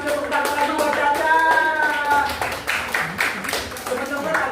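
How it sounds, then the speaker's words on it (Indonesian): Hand clapping for a child in a classroom lesson, a short burst of applause from a small group, mixed with children's voices talking over it. "Kita kasih tepuk tangan lagi buat Caca."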